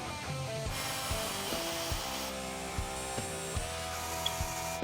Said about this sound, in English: I'm going to drill the holes for the pickup wires and whatnot.